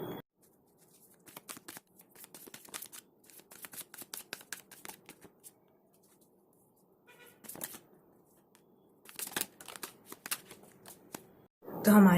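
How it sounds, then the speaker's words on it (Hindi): Tarot cards are shuffled by hand in repeated riffling bursts, crisp and close, separated by brief quiet gaps. "पहले मैं कार्ड्स को शफल करूँगी।"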